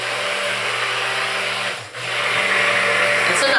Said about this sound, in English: my stick blender keeps cutting off